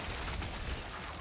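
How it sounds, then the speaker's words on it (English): Grenade blasts from a Rogue's thrown grenades in Diablo 4, a steady, low, rumbling burst of explosive noise with dense pops filling the whole stretch, moderately quiet and with no talking. "Remember to throw your grenades as much as you can."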